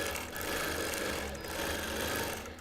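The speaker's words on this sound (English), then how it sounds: "I'm currently stitching in stitch regulated mode, so I have my machine set for 10 stitches per inch" Sewing machine free-motion quilting a Christmas table runner in stitch-regulated mode at ten stitches per inch, giving a steady close whirring hum with rapid needle ticking throughout the short burst.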